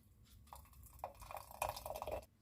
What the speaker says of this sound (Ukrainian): Ось тепер просто наливаємо в баночку.